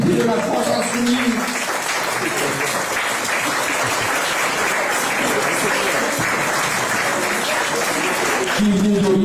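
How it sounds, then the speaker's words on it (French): Steady applause from guests at a political banquet for a deputy, a continuous dense clapping that fills the room at a constant level, with voices briefly audible at the start and end. "On peut applaudir Hugo, le député de la France Insoumise."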